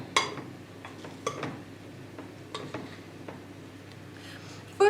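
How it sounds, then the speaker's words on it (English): A spoon stirs biscuit crumbs and butter for a caramel cheesecake base, giving soft scraping strokes and a few sharp clinks against the bowl, with a louder knock at the end, close and fairly quiet with no talk. "First, I mix it with the spoon"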